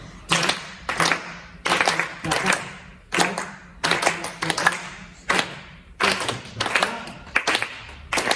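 Students in a music rhythm lesson clap a timed pattern together, groups of sharp synchronized claps in repeating phrases separated by short rests, moderately loud and close.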